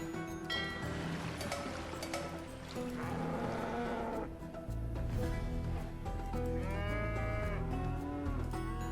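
Cattle moo repeatedly in the Age of Empires II video game, several long lowing calls that overlap, clear and moderately close, with no speech.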